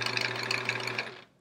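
A sewing machine stitches the back of a chevron-patterned quilt, running in a steady rapid whir close by for about a second before stopping, with no talk.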